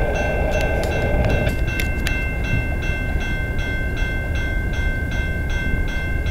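A CN eastbound freight train rumbles close by at a level crossing in London, Ontario, with a steady low roar, high screeching wheel tones, and a rhythmic clatter of cars passing.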